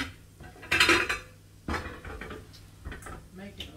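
Dishes and cutlery clatter in a home kitchen as a bowl is pulled out for fried potatoes. Loud close clinks and scrapes come in short bursts, with quieter knocks between them.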